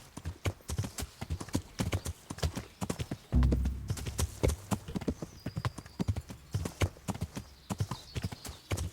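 Horse hooves clip-clop in a steady, close, moderately loud rhythm while riding in the video game Kingdom Come: Deliverance, with brief low thuds and a faint whinny in the background.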